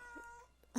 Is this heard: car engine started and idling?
no